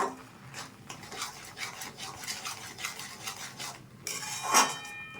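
Chhana and sugar are stirred in a pan for malai sandesh, a steady rhythmic scraping and rubbing of a spoon against the pan bottom, close and fairly quiet, ending with a sharper scrape.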